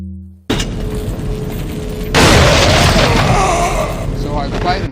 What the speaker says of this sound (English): Shotgun again.